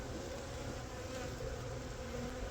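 A dense, steady hum of many honey bees buzzing close by in a feeder shim on a hive, continuous and low, with no talk.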